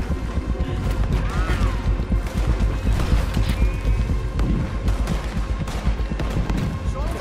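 Dense, continuous battle noise from Red Dead Redemption 2 with booming cannon blasts and clattering effects, loud throughout with no pauses.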